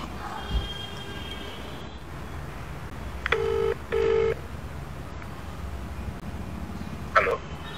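A phone number is keyed in as a politician calls an official, producing a few distinct touch-tone beeps, two close together and one later, over a low background murmur.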